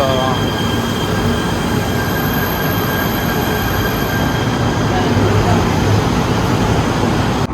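Continuous loud rumble of a KTM Komuter train in motion in Kuala Lumpur, Malaysia, with a steady high whine and rattling wheels throughout.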